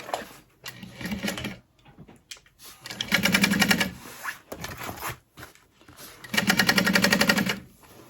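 Backpack side panels are sewn on a machine at a half-inch seam allowance, with two main bursts of rapid, steady stitching separated by shorter starts, pauses and light fabric handling noises, close and fairly loud.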